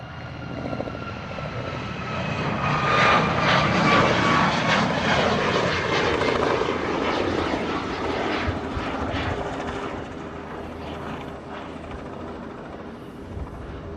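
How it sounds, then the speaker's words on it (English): Alaska Airlines Boeing 737 Max 9 jet passing at a Hawaii airport at sunset, a loud broad engine roar that swells, peaks and slowly fades into the distance, with no talking. "This is another Max 9 from Alaska."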